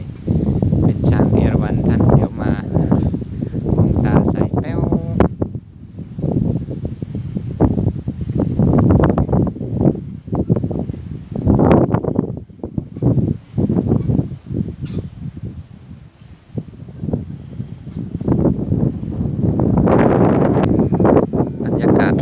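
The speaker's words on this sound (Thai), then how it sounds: "ณวันนี้สภาพอากาศลมค่อนข้างแรงมาก" Strong gusting wind around a temple stupa roars in heavy, uneven bursts against the microphone, loud and close, rising and falling over about twenty seconds with brief lulls, with someone talking beneath it.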